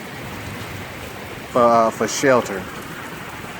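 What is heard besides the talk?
golf ball size hail and rain during a tornado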